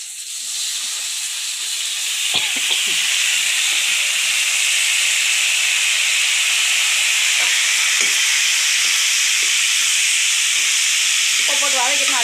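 Onions, with tomatoes to follow, sauté in a hot pan for fennel chutney, giving a steady loud sizzling hiss throughout, broken by occasional soft clinks and scrapes of a stirring spoon.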